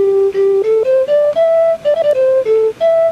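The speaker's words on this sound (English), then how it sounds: "Next octave up is a glass harmonica." Glass harmonica sample played on a Fairlight synthesizer, a short melodic run of pure, glassy sustained tones stepping up and back down, about a dozen distinct notes, clear and close with no talking.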